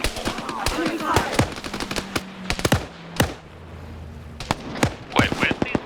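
Enemy gunfire in a video game: rapid, irregular bursts of sharp shots, close and loud, with short gaps between volleys and no talking.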